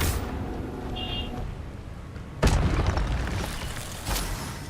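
An Incendio fire spell in Hogwarts Legacy goes off as a sudden booming blast partway through, followed by a rumbling tail and a second smaller burst near the end, over quiet game ambience.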